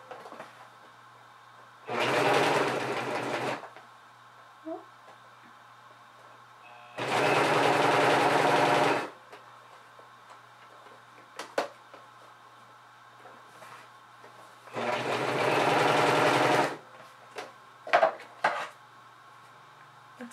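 A Singer Professional 5 serger runs in three separate bursts of a few seconds each, with quiet pauses and small clicks and handling noises in between.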